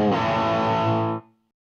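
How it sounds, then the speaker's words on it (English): Electric guitar through a TC Electronic Dark Matter Distortion pedal pushed by a Spark Booster, one loud sustained distorted chord ringing for just over a second before being cut off. "And now with Spark Booster added."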